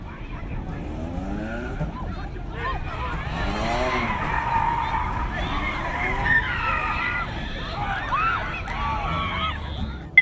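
A car skids as it plows through a crowd, with long warbling tire squeals and engine noise sustained over several seconds, loud and close, while voices shout underneath.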